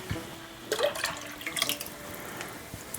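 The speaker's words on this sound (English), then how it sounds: "I'm going to add in 1 cup of half and half, just to make this extra rich" Half and half poured into a pot of soup, a short trickling splash of liquid with faint clinks, quiet and close, with no talk.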